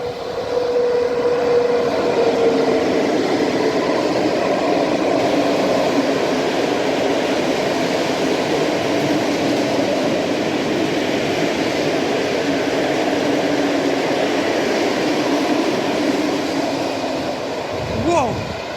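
A Byk locomotive hauls a freight train of gravel wagons past a station in Mińsk Mazowiecki, making a long, loud, steady rumble and clatter of wheels on rails. A faint squeal sounds early on, and a sharper burst comes near the end.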